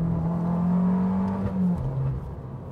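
Engine and exhaust of a 2018 Fiat Abarth 595 revving, heard from nearby as a strong, low, droning note that rises slightly, holds, then dips and settles into a lower tone.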